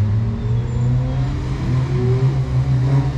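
A BMW 5 Series sweeps past at a lapping track event, its engine a loud, steady close roar with a rising whine that shifts pitch as the car goes by.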